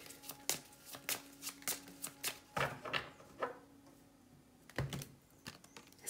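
Tarot cards are shuffled and drawn for a one-card reading, giving a run of crisp, close riffling slaps and flicks in an uneven rhythm, with a short pause before a final flurry of snaps.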